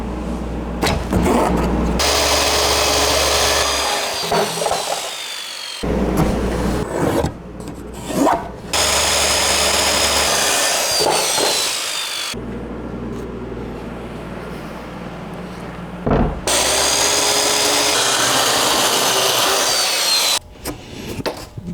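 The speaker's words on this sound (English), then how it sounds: "I'm gonna trim a baby edge off that far side" A power tool trims a thin edge off a barn wood board, loud harsh rasping cuts in several long passes separated by brief pauses, close and dominant with no talk.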